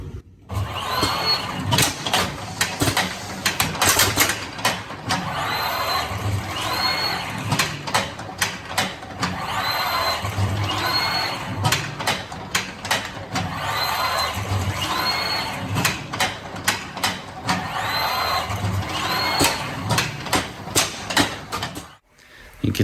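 A custom-built packaging machine runs at about 111 parts per minute, giving off a busy, rhythmic clatter of repeated mechanical strokes and whirring that carries on steadily, broken by a short pause near the end.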